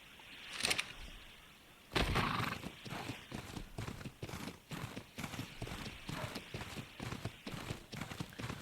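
Steady clip-clop of horse hooves walking at an even rhythm in the video game Ark Survival Ascended, fairly close, with a brief louder thump near the start and no talking.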